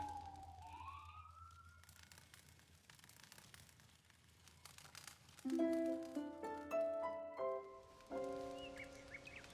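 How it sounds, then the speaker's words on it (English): A fire truck siren wails faintly in the distance for a couple of seconds, then fades. Brief layered musical tones follow. "That one's a fire truck."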